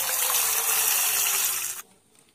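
Hibiscus petals washed under a running tap, a steady gushing stream of water that stops abruptly near the end.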